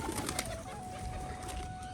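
A white male pigeon calling after a female in a rooftop pigeon setting, a faint steady murmur of coos and bird noise with a thin whistle-like tone running through, no talk.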